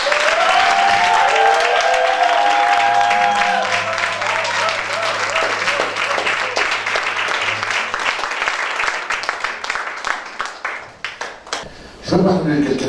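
A church congregation claps and cheers loudly in praise of the Lord, sustained applause with shouts mixed in that thins out and fades near the end.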